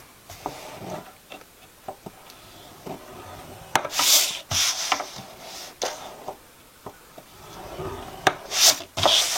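A fold being made, heard as close rubbing, scraping and creasing strokes in irregular bursts with soft taps between them, fairly loud and with no voices.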